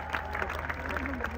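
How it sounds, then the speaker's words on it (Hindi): Crowd applause in the audience at the IIFA awards in Jaipur, a soft, moderately distant patter of many hands clapping, with a voice murmuring faintly through it. "बार जोरदार तालियां हो जाए।"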